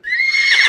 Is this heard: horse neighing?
yes